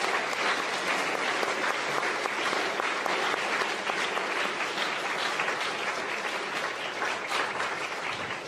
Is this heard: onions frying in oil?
no